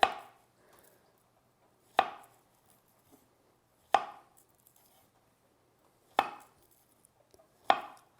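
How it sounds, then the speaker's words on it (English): Knife cutting thin slices through half a banana onto a board, five crisp isolated taps spaced about two seconds apart, close and clear with quiet between them. "We're just gonna do half a banana. And we're just going to kind of thinly slice here."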